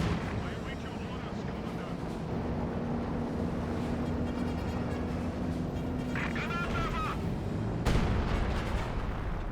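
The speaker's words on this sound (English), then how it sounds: "Mortar does receive a miss there." Mortar fire in a Company of Heroes 2 battle booms among a dense, continuous wash of game combat noise, rumbling explosions and gunfire, loud and constant.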